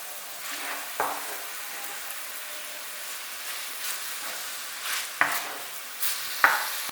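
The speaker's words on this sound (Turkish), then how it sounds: "soğanların üzerine 200 gram kırma, kıymayı ekliyorum. Ve soğanlarla birlikte tekrar kavuruyorum." Two hundred grams of minced meat frying with onions in a pan, a steady soft sizzle broken by a few sharp spatula scrapes and clacks while stirring, no talk.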